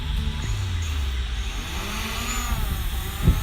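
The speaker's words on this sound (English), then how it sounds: "Let's get this motor started." The motors of a DJI Mavic Pro drone start up outdoors. A loud, continuous whirring hum builds with faint rising pitch sweeps, close by and steady.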